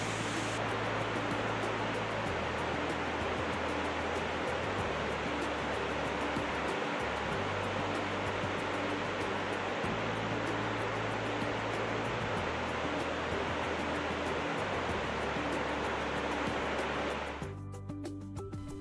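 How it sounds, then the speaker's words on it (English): A multi-level waterfall in Yellowstone cascading over terraces, a loud, continuous broadband roar of rushing water heard up close and steady throughout, cutting off abruptly near the end. "my favorite waterfall in the park, the way it cascaded over multiple levels and terraces"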